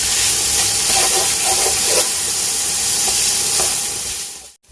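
Burger ingredients seasoned with paprika roast in a very hot pan, giving a loud, continuous steamy hiss and sizzle close up that cuts off abruptly at the end.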